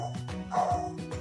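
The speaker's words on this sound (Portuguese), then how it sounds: "o cachorro do vizinho é terrível" A neighbour's dog barks several times in quick succession, close and fairly loud, with short yipping tones, in a home kitchen.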